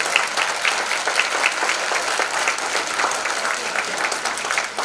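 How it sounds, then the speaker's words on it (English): An audience applauds steadily throughout, a dense wash of many hands clapping at a fairly close, even level, with no speech over it. "Give these women a round of applause."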